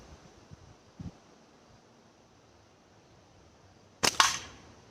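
A cheap $2 slingshot lets fly: one faint snap near the one-second mark, then a loud, sharp crack around four seconds with a short rattling tail, set against quiet outdoor air with no voices.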